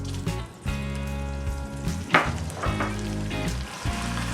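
Butter hits a hot pan and sizzles loudly, the crackle rising sharply and then settling into a steady fry with a few brisk bursts, no voices over it.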